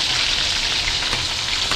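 Yellowfin tuna fries in hot oil, giving a steady, dense, close sizzle like rain on a surface, alone and unbroken.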